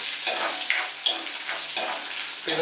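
Rice frying in hot oil, a close continuous sizzle broken by rhythmic scraping strokes of stirring about every half second, with crackling pops through it.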